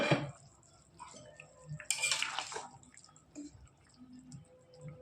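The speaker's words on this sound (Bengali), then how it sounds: "এবার ঢাকনিটা তুলে নেব।" A lid comes off a cooking pot of simmering potatoes and tilapia curry, a short metallic clink and scrape followed by a burst of bubbling and steam, with faint kitchen clatter and drips around it.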